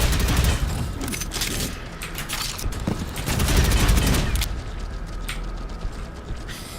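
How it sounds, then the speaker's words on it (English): Grenade launcher fire and explosions in the shooter game Prodeus, heard as a dense, loud, continuous barrage of blasts and mechanical clatter with no speech. "Oh god, I love a grenade launcher."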